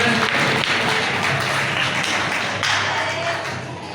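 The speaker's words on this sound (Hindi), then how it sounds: "रंजन जी के लिए जोरदार ताली से स्वागत करते हैं।" A crowd at a community gathering breaks into loud, sustained applause to welcome a guest, the dense clapping continuing steadily for several seconds.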